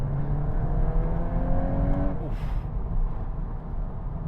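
A VW Golf R hot hatch under hard acceleration in R sport mode, its engine note a loud, steady drone with rising harmonics for about two seconds before a brief gearshift-like break, then continuing strong.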